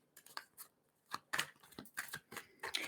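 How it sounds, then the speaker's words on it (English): Tarot cards being shuffled by hand, a series of close, crisp riffling and snapping bursts separated by short pauses, quiet and alone. "while I'm shuffling here"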